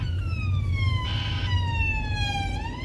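A police car siren wails loud and close, its rising and falling tone sweeping steadily over a rumble of traffic, with no one talking.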